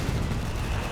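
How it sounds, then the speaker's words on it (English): A howitzer barrage in Company of Heroes 3 pounds away as a brief, loud, continuous roar of heavy artillery blasts, with no pauses and no voices. "There you go, howitzer barrage."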